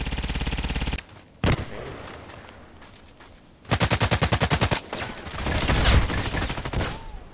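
Rapid bursts of gunfire from an SVU-AS rifle in the shooter Contract Wars, loud and close, with a fast steady rhythm of shots broken by short pauses and one brief separate shot. A voice speaks a single word.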